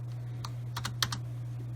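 Several quick keystrokes on a computer keyboard, clustered in a short burst of clicks close to the mic over a steady low electrical hum.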